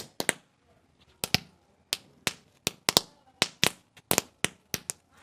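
A ball of 500 roll caps bursts during Diwali celebrations, giving a loud, irregular series of sharp cracks and pops, some in quick doubles, with brief gaps between them.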